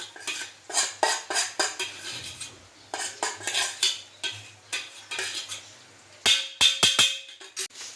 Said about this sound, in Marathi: जोपर्यंत आपलं सुट्टा सुट्टा असा झुणका होत नाही तोपर्यंत असं आपण परतत राहायचं